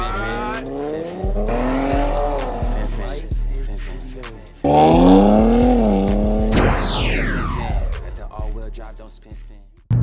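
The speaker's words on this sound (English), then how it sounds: "Maybe if we hit a little underpass, I'ma go crazy and give a little burble." A tuned 450-whp AWD Infiniti Q50S accelerates hard, its engine rising in repeated loud revving sweeps through the gears, with a sharp whoosh and exhaust burble near the end; a voice is partly mixed in.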